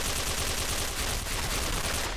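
Dense, continuous gunfire from the online shooter Special Force 2, a rapid unbroken rattle of shots filling the whole moment at steady loudness.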